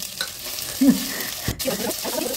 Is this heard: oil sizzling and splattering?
yes